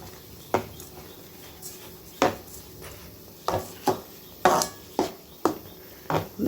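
A spoon stirs kesari, a sweet semolina mixture, in a pan. Around ten distinct knocks and scrapes come at an uneven, unhurried rhythm over a quiet background.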